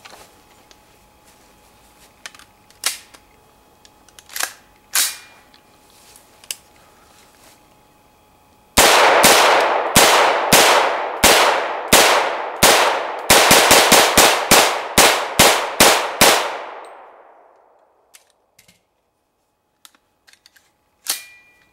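Bazooka Brothers 7-inch M16 upper conversion in 7.62x25mm fired outdoors: after a few scattered distant shots, a loud, close string of rapid shots in bursts of several rounds, with a short echo trailing off after the last.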